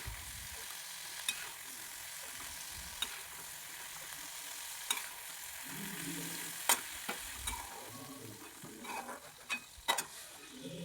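Lightly fried bilimbi being scooped out of hot oil for a Kerala-style pickle, a quiet continuous sizzle with scattered clinks and scrapes of a ladle against the pan, growing busier toward the end.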